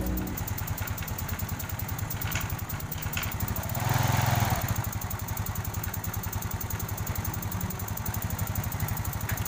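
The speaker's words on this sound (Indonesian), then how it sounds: "motornya jadi sudah hidup dan ada sedikit yang mesti kita benahi kembali, seperti bunyi cek itu" A Yamaha Mio Sporty motorcycle engine runs at a steady idle with a rapid, even rattling tick throughout, up close, with a brief swell in revs partway through.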